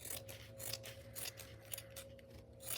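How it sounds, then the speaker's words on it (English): Scissors snip through fabric being trimmed for an ottoman-style pin cushion, a run of quiet, close cuts in a steady rhythm with a low hum beneath. "I probably could trim a little bit of this"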